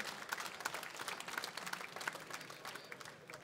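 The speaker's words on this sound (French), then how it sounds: "Allez, on peut l'applaudir une dernière fois bien fort" A crowd applauds the best young angler at a French boat fishing championship prize ceremony, steady distant clapping from a modest audience, fairly faint and continuous throughout.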